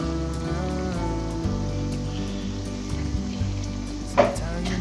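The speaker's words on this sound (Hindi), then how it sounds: "ये अब इसको हम लोग अब मैं डीप फ्राई करूँगी" Sweet fried dough rounds (meethi tikiyan) sizzle steadily in hot oil during deep frying, a continuous crackling bubble with a few sharper pops, close and fairly loud.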